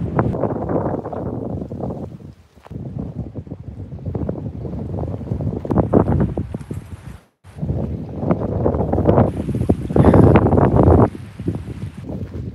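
Strong wind buffets the microphone at a beach campsite in Bahia Honda State Park in the Florida Keys, a loud, roaring rumble in heavy gusts with two brief lulls, no voices heard.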